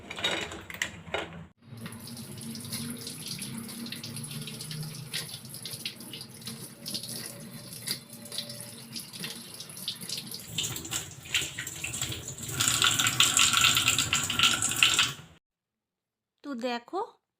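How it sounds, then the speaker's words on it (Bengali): Household tap water runs steadily from a faucet over a freshly cleaned item in a sink during home cleaning, a continuous splashing flow that swells louder near the end before cutting off, with a brief voice afterward. "তো চলো এবারে জলে একটু ধুয়ে নিই"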